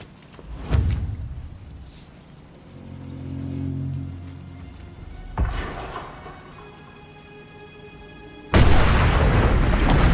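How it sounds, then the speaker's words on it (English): In Sniper Elite 5, explosive charges set around a radar site go off as a few deep booms with rumbling tails, the last one a sudden, loud, sustained blast, all set against ambient game sound. "Don't want to be here when the last charge goes off."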